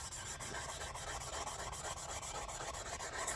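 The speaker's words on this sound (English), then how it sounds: "Sanding definitely has its joys to it." Steady hand sanding of an axe blade, a continuous close abrasive rasping with quick back-and-forth strokes at even loudness throughout, with no voices.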